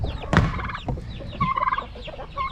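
Chickens squawk and cluck excitedly after live mealworms are tossed to them, a loud burst of gobbling calls near the start followed by shorter excited bursts and chatter from the flock.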